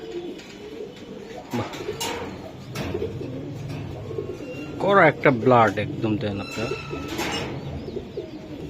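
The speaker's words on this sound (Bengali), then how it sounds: "দর্শক এই যে দেখেন আর একটি কবুতর" Pigeons coo repeatedly in a breeder's loft, a burst of throaty rolling calls rising midway, while someone talks over them throughout.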